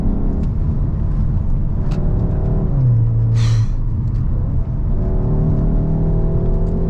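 Skoda Octavia 4 RS engine droning steadily while cornering with slight understeer, a constant loud drone under a gear-shift whine and a short tyre screech midway.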